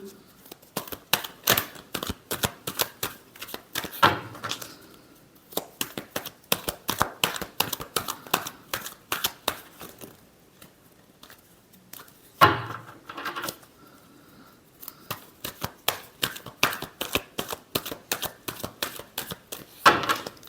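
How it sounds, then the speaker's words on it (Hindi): A tarot deck is shuffled in quick bursts of crisp, riffling card clicks, with short pauses and a couple of heavier taps between rounds, recorded close. "Last shuffle."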